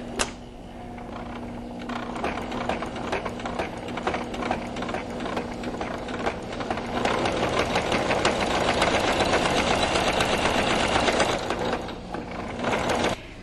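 A sewing machine stitches rick rack onto a baby-clothes quilt, its needle chattering in a continuous close mechanical rattle that runs steadily and grows slightly busier toward the middle before easing off.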